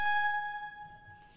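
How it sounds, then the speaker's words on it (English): A deep house synth pluck layered with a glassy bell tone rings out in clear, bright sustained notes that slowly fade, alone with no other sounds. "We have this plucks, right? They sound like this."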